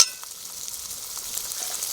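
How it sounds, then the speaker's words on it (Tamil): Tomatoes with masala and salt sautéing in a pan, a soft, even sizzle that carries on steadily throughout. "அப்போ தான் தக்காளி நல்லா வதங்கும்"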